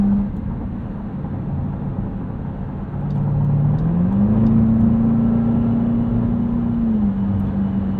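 The engine of a 2023 Dodge Durango SRT Hellcat, heard from inside while commuting, rises from a steady drone to a louder sustained pull under acceleration, holding a steady tone before easing back slightly.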